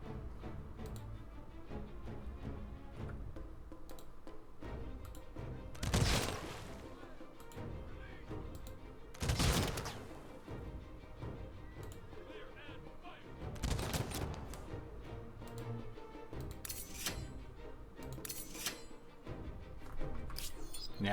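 Ranged units fire volleys in the strategy game Humankind, several sharp gunfire bursts breaking through at intervals over quiet game music, with a person talking in between.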